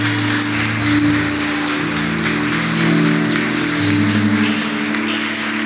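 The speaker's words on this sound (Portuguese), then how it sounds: "Se você concorda, aplauda o santo nome do Senhor Jesus." A church congregation applauds at a Christmas cantata service, a steady wash of many hands clapping that holds at an even level for several seconds over a low sustained organ or keyboard tone.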